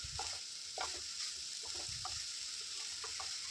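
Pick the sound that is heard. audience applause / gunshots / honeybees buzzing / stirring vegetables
stirring vegetables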